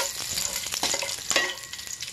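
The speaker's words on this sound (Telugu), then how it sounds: "దానికి సంబంధించినవి లవంగాయ చెక్క, జాజికాయ, అనాసపు, జీడిపప్పులు వేసుకొని దోరగా" Cloves, cinnamon, nutmeg, star anise and cashews fry in a little oil for chicken pakoda curry, a soft crackling sizzle broken by quick spatula scrapes and taps, close and moderately loud.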